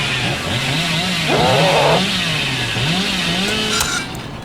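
Chainsaw revving in the horror game Dead by Daylight: a loud, steady buzzing drone whose pitch swells and dips across several seconds, with a brief harsher rasp partway through, and no voices.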